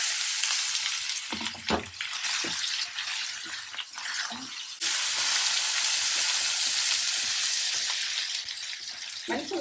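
Tempering spices fry in oil in a pan for a snake gourd and curd chutney, with a steady bright sizzle running throughout and a few soft stirring knocks, and no talk.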